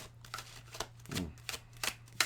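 Tarot cards shuffled close up in quick, uneven bursts of riffling and slapping, several soft flurries and sharp taps over a faint hum.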